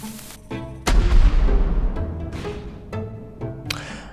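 A loud, deep cannon boom in a video game bursts out and rumbles away, followed by several smaller sharp pops and clanks.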